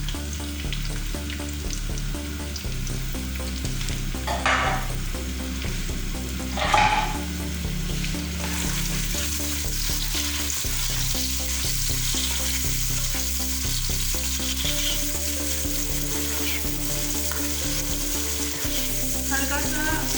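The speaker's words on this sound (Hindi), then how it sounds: "ये हो गया है हमारा ऑयल गरम। अब हम इसमें डाल देंगे ऑनियन।" Chopped onion hits hot oil for butter chicken and keeps up a steady, loud sizzle close by, with a couple of brief clatters from stirring in the pan and no voices.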